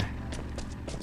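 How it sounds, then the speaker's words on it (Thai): Horse hooves while riding in the survival game Last Island of Survival, a few quick clip-clop hoofbeats over a steady background bed, heard alone without talk. "แล้วก็ขี่ม้ากลับเลย"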